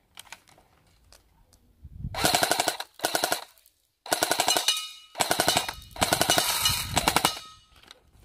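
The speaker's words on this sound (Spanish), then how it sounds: "Vamos a ponerla en ráfaga para que la veas." A G36 airsoft gun firing in burst mode: several rapid mechanical rattling bursts, close and loud, separated by brief silent pauses, after a few faint clicks at the start.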